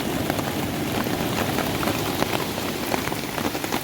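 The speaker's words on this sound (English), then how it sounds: "rain is pouring right now in Paria" Tropical storm rain pours on a campsite at Paria, a dense, steady drumming of drops on surfaces that continues without a break and with no talking.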